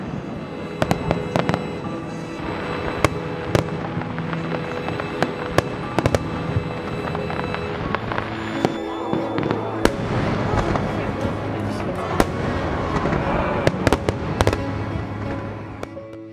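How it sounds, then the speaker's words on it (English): Fireworks bursting over Montreal during an international fireworks competition, with a steady barrage of sharp cracks and booms over a continuous rumble, loud and dense throughout. "It's the largest fireworks competition in the world."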